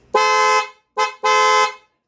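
Stock horn on a motorcycle honks three times up close, loud and alone: a long blast, a short toot, then another long blast.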